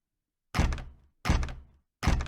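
Three separate front-door closing thuds, each a loud solid impact with a short rattling decay, spaced roughly evenly apart with silence between them.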